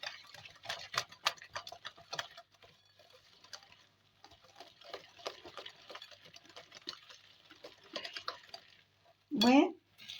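Biscuit dough with baking powder being beaten by hand in a bowl, giving a run of quick, irregular close taps and scrapes that go on for most of the stretch, followed by a short louder scrape near the end.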